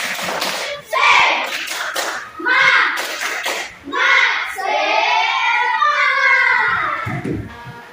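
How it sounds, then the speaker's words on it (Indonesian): Schoolchildren in a classroom do a rhythmic clapping chant, bursts of claps alternating with loud, sing-song group shouting in short phrases, close and lively. "Tepuk semangat"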